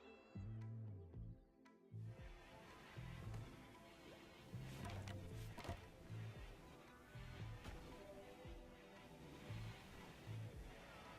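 A cat in the colony-sim game Rimworld gives a series of short, repeated meows at a fairly steady rhythm, faint under a low game background with no voices.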